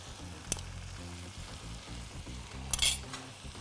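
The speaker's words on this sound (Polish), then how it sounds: "mieszamy" A spoon stirs a meat-and-vegetable rice stuffing with curry, chili, salt and pepper in a frying pan, a soft sizzle under a couple of bright metallic clinks.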